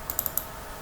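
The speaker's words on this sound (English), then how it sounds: "I could just open one of those just by double clicking" A computer mouse clicks rapidly a few times in quick succession, faint and close, with no talking.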